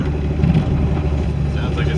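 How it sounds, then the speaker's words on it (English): A Jeep engine with a rod knock idles and runs, a steady low rumble with a rough, pulsing undertone filling the whole stretch at close range. "sounds like my engine's still there"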